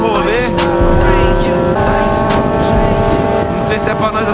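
A car accelerating along a road, a loud close engine roar with rising whine and rushing wind noise throughout, with people talking over it.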